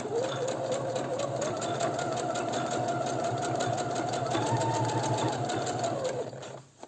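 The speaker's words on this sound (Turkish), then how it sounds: "tansiyon ayarımızı sıktıktan sonra normal dikmeye başlıyoruz" A sewing machine runs steadily while stitching a pintuck with a straight stitch, giving a fast, even mechanical whir and needle rattle for several seconds before slowing and stopping near the end.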